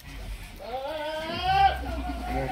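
A heavy male goat on a goat farm bleats once in a long, wavering cry that rises and holds near the microphone, with low background rumble and other farm sounds around it.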